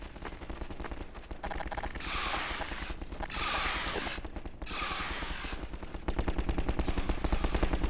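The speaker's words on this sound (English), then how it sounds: "Oh, they're gonna shoot at us." Gunfire in Half-Life 2 co-op, loud rapid automatic bursts crackling in close succession, broken by short bright bursts of noise and building to a heavier sustained volley at the end.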